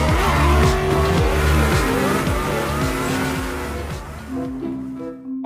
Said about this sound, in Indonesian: teman-teman, ini ada mobil sport.